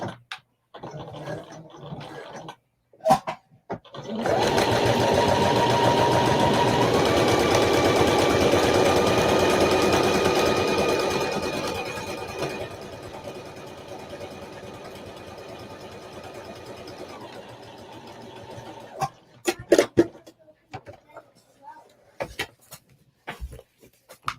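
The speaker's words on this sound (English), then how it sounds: "This is just me practicing how to sew," Sewing machine stitching a zipper pouch, a sustained motor hum lasting several seconds that gradually fades, framed by scattered clicks and handling knocks before and after.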